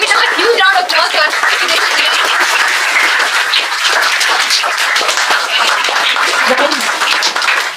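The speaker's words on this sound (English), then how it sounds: "give it up a huge round of applause for" Audience applause after a spoken English session in Hazaribagh, a dense, steady wash of clapping hands that fills the room loudly and continuously, with no voice standing out.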